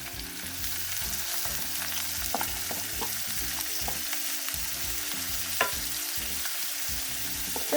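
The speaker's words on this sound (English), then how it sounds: "when you're adding your omena to the oil" Omena, small fish, frying in hot oil, a steady crackling sizzle with occasional stirring scrapes and pops, close and continuous throughout.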